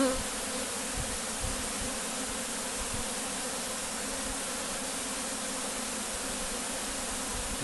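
Dense, steady buzzing of many honeybees swarming close by, a continuous droning hum with no voices.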